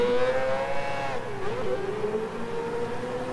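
A high-pitched Mazda 787B racing engine whine in Gran Turismo Sport that rises and falls as the car shifts gears, loud and continuous with no voices.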